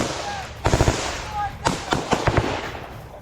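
Rapid bursts of small-arms gunfire from a Ukrainian counterattack on Russian positions in Bakhmut, Ukraine, crackle in two clustered volleys at moderate distance over low rumbling background noise.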